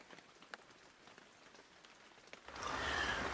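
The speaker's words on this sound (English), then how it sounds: "Unfortunately, the rain has well settled in." Steady winter rain at a lake during carp fishing, light patter of drops on surfaces that swells into a louder, denser hiss of rain near the end, with no voices.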